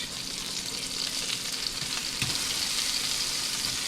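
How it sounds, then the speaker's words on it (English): Sausage sizzling in a frying pan just after being turned over, a dense, steady, close hiss that swells slightly partway through, no talking. "flip over my sausage"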